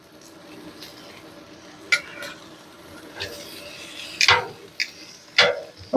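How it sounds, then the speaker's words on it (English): Applewood smoked bacon laid on a griddle for eggs Benedict, a soft continuous sizzle beneath louder utensil scrapes and metallic clinks that come in sharp bursts toward the end, close by. "There's nothing like the sound of bacon frying"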